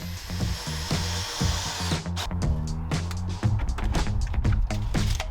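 Power drill driving toenail screws into rafters of a covered porch, a loud steady whine that rises and then breaks into a rough stuttering grind as each screw bites into the wood.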